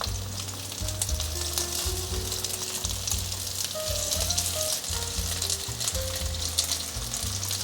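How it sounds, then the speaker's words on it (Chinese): Starch-coated vegan gluten sausages sizzle steadily in hot oil in a pan, a loud continuous frying hiss with occasional faint clinks, no talking. "用回原锅，再补一点油，把面肠放进来煎，一条一条尽可能分开。"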